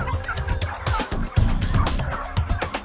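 A crowded flock of heritage turkeys, including standard bronze and Narragansett breeds, gobbles and clucks without a break on a small California farm near Fresno. The calls overlap into a dense, loud chorus close by.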